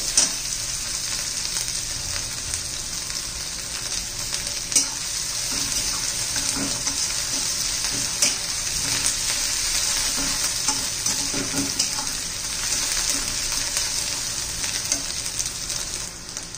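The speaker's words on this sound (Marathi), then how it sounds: "मिरची, लसूण आणि आलं याचा आपण जो खरडा केलाय तो घालून घेऊया. तो पण तेलात चांगला परतला गेला पाहिजे." Chilli, garlic and ginger paste frying in oil with onion for a bitter gourd dish, a steady hiss and crackle with occasional stirring scrapes, close and continuous with no talk.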